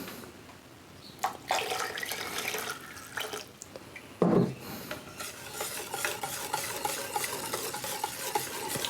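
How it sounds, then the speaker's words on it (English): A whisk stirs alcohol into a peanut butter and jelly mixture with close, uneven scraping and swishing strokes, broken by a short thump near the middle, then faster steady whisking. "we'll take a whisk and just kind of whisk it in"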